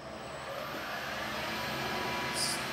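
A Marathon E470 electric motor under VFD control drives a Precision Matthews metal lathe in a medium gear range, giving a steady, continuous hum and whine with faint high tones, fairly quiet and alone.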